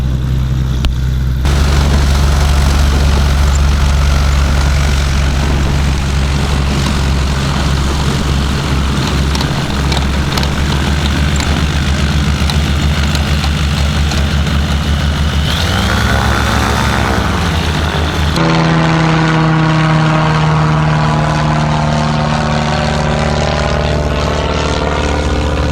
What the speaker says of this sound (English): It's quite a few aircraft movements now.